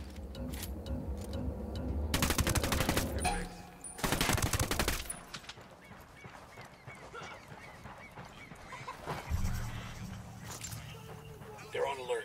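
Submachine gun fire in the Ghost Recon video game: two loud sustained bursts of rapid automatic shots close together, followed by quieter mechanical clicks and game sounds, with a voice speaking over parts of it.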